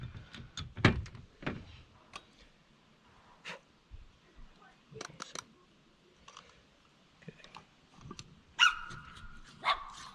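A pet dog barks a few times in a quiet kitchen during mushroom tincture preparation, with sharp separate yelps spread across the stretch and soft clicks and handling noises between them.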